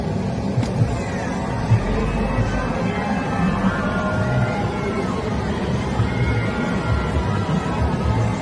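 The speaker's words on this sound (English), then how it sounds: "you're probably hearing in the background a rather loud crowd" A loud crowd roars steadily in the background, a dense, unbroken wash of many voices holding at the same level for the whole stretch, with no single voice standing out.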